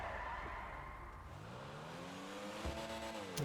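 A car driven in GTA Online, part of the Los Santos Tuners update, revs steadily with rising engine harmonics and brief tyre skids, with no talking over it.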